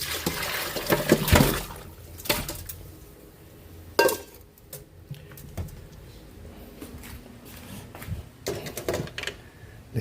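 Tender pork ribs in sinigang broth are poured and shifted into cooking pots, with liquid splashes, metal clanks and scrapes of pots and utensils coming in irregular bursts at close range.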